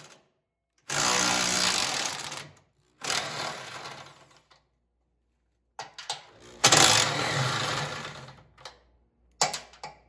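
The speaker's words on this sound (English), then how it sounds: "The impact driver is working really well here" An impact driver working on a 25-year-old MTD Yard Machines snow blower during restoration, loud rattling hammering bursts of a few seconds each separated by silences, close and alone without talk.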